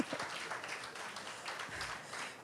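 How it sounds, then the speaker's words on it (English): Faint, steady applause from an audience at a business development forum, a soft continuous patter of many hands clapping at a distance. "I think they deserve a round of applause at this point."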